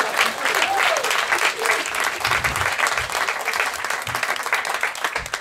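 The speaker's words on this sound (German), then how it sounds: "Applaus für dieses komische Pärchen" An audience at a live stand-up comedy show applauds in a dense, continuous burst of clapping that fills the room, with a voice speaking faintly underneath.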